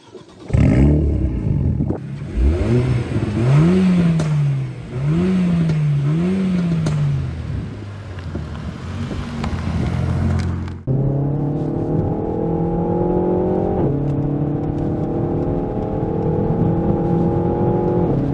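A Renault Mégane 4 RS Ultime accelerates hard to overtake on the road, its engine loud and close from inside, revving up through several rising pulls, then a gear change and a steady, strong climb in pitch.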